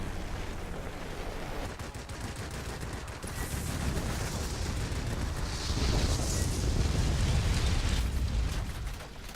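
A bomb blast in World of Warplanes during a ground attack, rendered as a sustained, heavy rumble of explosions and crackling fire under constant aircraft engine drone, loud and unbroken across the whole stretch.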